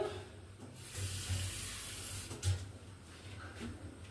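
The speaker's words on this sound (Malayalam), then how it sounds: "ഒരു അല്പം വെള്ളം കൂടി ചേർത്ത് കൊടുക്കുവാണേ" Water splashes and trickles into a cooking pot on a lit stove in a short pour while making sardine curry, then a few quieter drips and clinks follow.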